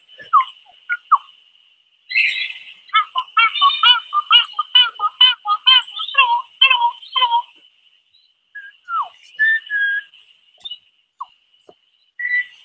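A bird calls in rapid series of clear, whistled notes, sharp and rhythmic, with scattered single chirps before and after against a quiet background.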